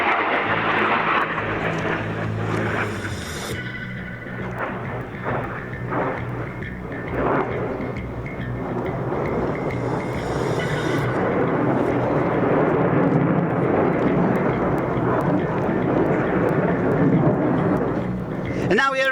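A Eurofighter Typhoon jet roars through an air display at a NATO show, its thunderous engine noise rising and falling as it passes, while an announcer commentates over it.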